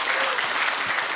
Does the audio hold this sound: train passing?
no